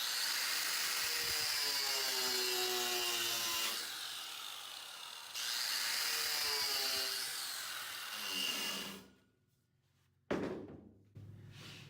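An angle grinder fitted with a wire wheel scrubs a steel weld area clean, a steady high whirring buzz that dips briefly mid-pass, then spins down before a short burst of contact noise.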